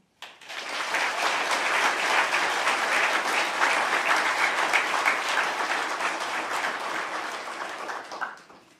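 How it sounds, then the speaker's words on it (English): Sustained, full applause for newly inducted NCO Corps members fills a military induction ceremony hall, rising quickly, holding steady for several seconds, then tapering off. "please join me in one more round of applause for the newest NCO Corps inductees"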